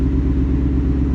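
A 2019 Ford Mustang GT fitted with a VMP Odin supercharger idles close by, a steady loud low rumble with even pulsing throughout.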